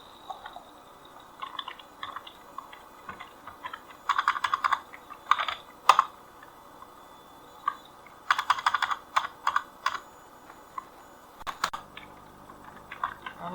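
Typing on a computer keyboard while programming a NodeMCU ESP8266 with a servo motor attached, heard as close, irregular bursts of clicking keystrokes with short pauses between flurries.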